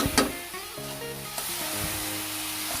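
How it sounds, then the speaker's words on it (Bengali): Jaggery is stirred in a pan over a low gas flame, a soft steady sizzle broken by a few sharp scraping strokes of the spoon against the pan, close and quiet with no voices. "এভাবে ভালোভাবে নেড়ে চেড়ে গুড়টাকে মিলিয়ে নিতে হবে, না হলে নিচে লেগে যাবে।"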